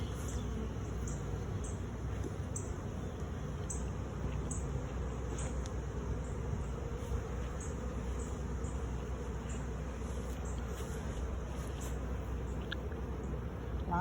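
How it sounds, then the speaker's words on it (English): A faint, steady drone of many honeybees buzzing close by on a hive frame, low and continuous with a few higher ticks and chirps scattered over it. "Lots of bees on this frame."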